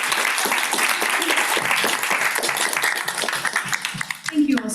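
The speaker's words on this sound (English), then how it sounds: "Can we have a round of applause for our meeting?" An audience at a PlanRVA Day public engagement event breaks into a round of dense, sustained clapping, loud and close, with a voice briefly heard near the end.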